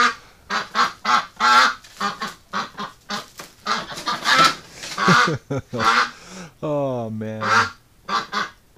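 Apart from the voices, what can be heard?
duck honking and quacking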